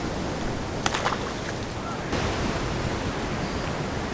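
Ocean surf breaking around boulders on a summer shoreline, a constant roaring wash of white water with a few sharp splashes and a rising surge partway through, close and loud.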